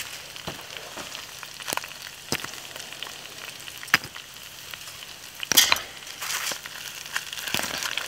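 Mesquite wood burns on an off-grid outdoor fire, giving steady soft crackling with scattered sharp pops and a brief louder flare-up of snapping near the end.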